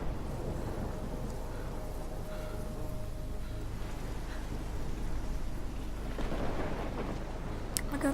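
Steady rain and rumbling thunder of a storm in the video game Life Is Strange, with a dense low roar and continuous hiss throughout and a louder rolling swell near the end.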